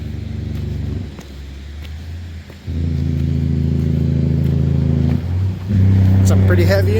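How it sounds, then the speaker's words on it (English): A heavy truck's engine brake rumbles in deep, pulsing bursts, loud and close, cutting in and out in several stretches with a brief lull between them. "Some pretty heavy engine brakes there."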